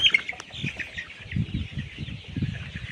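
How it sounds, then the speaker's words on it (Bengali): Forty-eight-day-old layer pullet chickens on a poultry farm, wings flapping in repeated soft bursts against a steady background hum of the shed, with occasional faint chirps. "স্ক্রিনে যে ভিডিওটা দেখতেছেন এই মুরগিগুলোর বয়স চলতেছে 48 দিন।"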